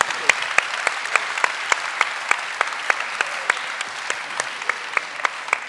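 Audience applauding during a church talk, a steady wash of clapping with some sharper individual claps standing out, moderately loud and continuous for several seconds.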